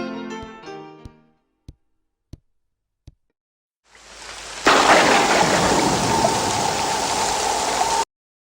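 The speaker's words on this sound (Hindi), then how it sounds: "सीरियसली बहुत ज्यादा बारिश हो रही है बाहर" Heavy rain pours down outside during a storm. It rises from silence after a few sharp knocks into a loud, steady roaring downpour that holds until it suddenly cuts off. A tonal passage opens the stretch.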